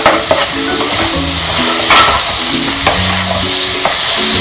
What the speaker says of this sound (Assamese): সুন্দৰকৈ ভাজি ল'ম এতিয়া